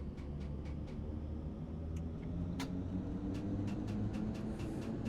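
Two London Underground Bakerloo Line trains pull away together in a train simulator game, a low steady motor rumble with a faint rising whine and scattered light clicks, continuous and moderately quiet.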